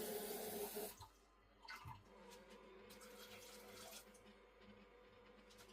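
Tap water pours into a pot for cooking in a home kitchen, a bright splashing stream that cuts off after about a second, followed by faint quiet kitchen background.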